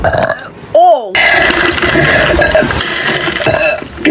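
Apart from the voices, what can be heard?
girl burping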